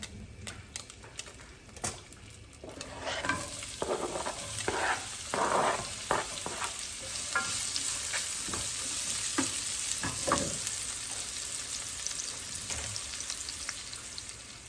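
Shallots frying in warm olive oil over lowered heat, a steady close sizzle with scattered crackles and occasional stirring scrapes, building slightly louder midway and holding a continuous hiss, no voices.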